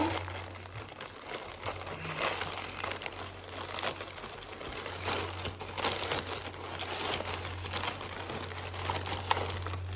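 Plastic mailer packaging from a Shein parcel crinkles and rustles steadily as it is torn open, close and moderately loud, with a low hum underneath.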